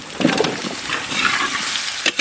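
Chopped mango hits hot mustard oil with dried chillies, bay leaf and mustard seeds, raising a loud, close, crackling sizzle that swells and pops unevenly with no voices over it.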